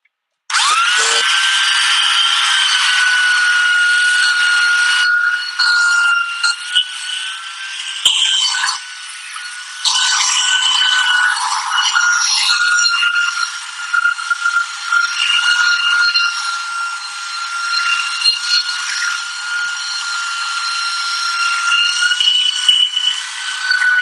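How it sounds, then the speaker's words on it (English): Power sander working across a wooden pub table top, smoothing planer grooves; a continuous high-pitched whir with brief dips in pressure, close and loud, without talk. "A little bit of sanding."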